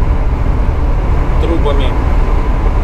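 Inside a long-haul truck cab on the road from Finland to Norway, hauling a load of pipes: a steady, loud engine and road rumble drones without a break.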